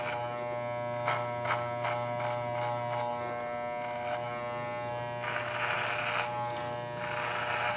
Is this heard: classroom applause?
no